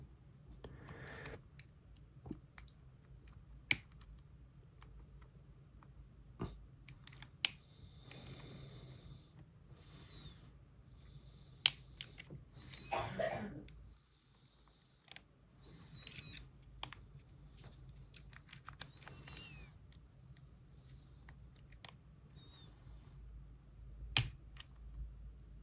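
A lock pick works the pins of a LOTO padlock, producing sparse, faint metallic clicks and small taps at irregular intervals against a quiet background.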